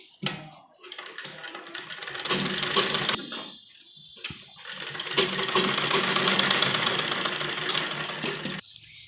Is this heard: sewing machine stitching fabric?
yes